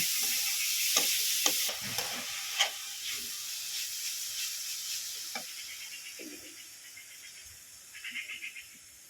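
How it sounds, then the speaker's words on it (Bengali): Coconut filling for kumro puli pitha is stirred in a pan under a constant soft hiss, with intermittent scrapes and taps of the spatula and a brief rattling burst near the end. "এভাবে আমি নাড়াচাড়া করে নারকলের পুরটাকে"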